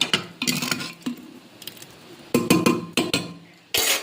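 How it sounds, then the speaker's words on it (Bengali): A pressure cooker of boiled lentils is opened in a home kitchen, giving a series of sharp metallic clinks and clatters of lid and pot, separated by quiet gaps, close and fairly loud. "প্রেসার কুকারটা খুলে নিচ্ছি।"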